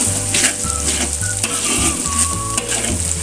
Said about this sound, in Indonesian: Cabainya kita goreng sampai kering.